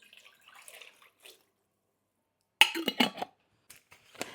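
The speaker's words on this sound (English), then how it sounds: "We're going to add 4 cups of beef broth." Beef broth poured into a pot for a country Irish stew, brief splashy liquid pours, close and fairly quiet, separated by a silent gap.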